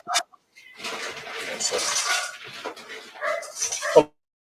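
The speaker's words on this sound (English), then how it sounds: "my son feeding his dog" A dog barking and whimpering excitedly while being fed, a run of close yips and barks ending in one loud sharp bark, with people talking at times.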